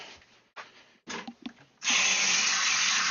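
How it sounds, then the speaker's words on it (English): Hands rinsed under a running tap after handling an algae-covered tank: a few short splashes and drips, then a steady, loud rush of water pouring into the sink, close by and with no talking. "Rinse my hands, because they're all grody."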